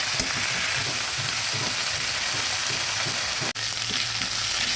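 Onion frying in a pan for a jackfruit curry gives a steady, dense sizzle and hiss that runs without a break, with one brief dropout near the end.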